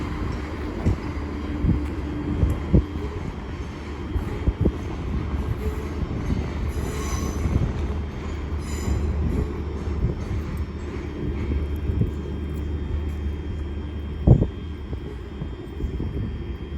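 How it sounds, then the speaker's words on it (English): CrossCountry train from Stansted Airport to Birmingham New Street at Cambridge station, a loud, steady rumble of rolling wheels with squeals and clanks and a sharp knock near the end. "And here we have the 1357 CrossCountry service from Stansted Airport to Birmingham New Street"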